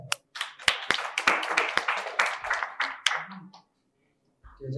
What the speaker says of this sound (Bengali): সবাই জোরে হাততালি একটা